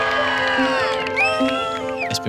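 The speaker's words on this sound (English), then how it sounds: "Have a massive round of applause" An audience cheers and whoops after an announcement, a dense mix of shouting voices and high calls over a sustained crowd roar, close and lively throughout.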